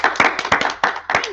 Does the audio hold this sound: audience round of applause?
yes